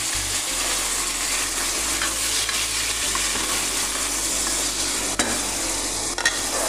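Tomatoes tossed into a hot frying pan, loud steady sizzling and frying hiss close up, with stirring scrapes and a couple of sharp utensil knocks near the end.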